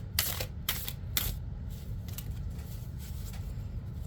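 Quick riffling bursts of tarot cards being shuffled, several crisp flurries in the first second and a half, then quieter handling over a low background hum.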